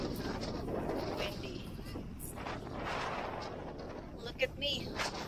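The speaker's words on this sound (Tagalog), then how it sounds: "It's so windy." Strong wind buffets the microphone in a steady low roar near Abraham Lake or the Rockies lakes, with occasional gusts and faint voices underneath.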